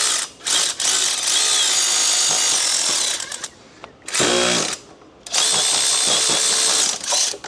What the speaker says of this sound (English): I think I would like to remove this power steering pump. So I'm going to pull this bottom bolt out of it.